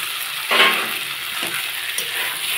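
Fried carrot and egg sautéing in a spiced curry base with ground coriander. A steady close sizzle with a couple of brief stirring scrapes, and no talk.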